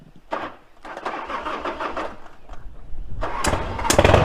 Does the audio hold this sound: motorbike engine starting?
yes